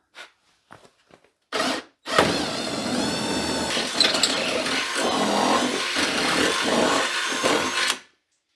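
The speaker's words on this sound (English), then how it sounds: "I just had to use a die grinder, kind of open up the hole a little bit." A die grinder opens up a bolt hole in a Dodge Ram truck bumper after a few light clicks, whining close and loud in one steady run of about six seconds with its pitch dipping under load, then stopping abruptly.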